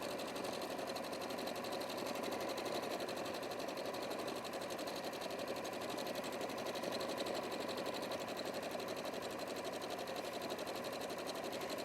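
A Brother sewing machine stitching steadily, a fast even mechanical whir and needle clatter running continuously at close range with no pauses.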